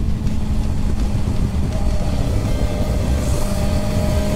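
A motorcycle engine drones steadily and loudly throughout, a continuous low rumble with steady intensity and no clear gear changes, heard from close by while riding.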